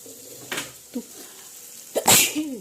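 A single sharp sneeze bursts out in a home kitchen while chili-spiced ivy gourd is being cooked, preceded by a couple of small breathy catches and followed by a faint vocal murmur.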